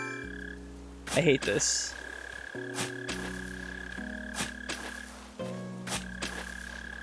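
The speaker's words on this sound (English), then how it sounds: "We're getting absolutely blown out by these mole crickets" Mole crickets in Animal Crossing New Horizons give a steady, looping low chirping drone that keeps going across the stretch, with a brief break partway, while someone talks over it and ambient game music plays.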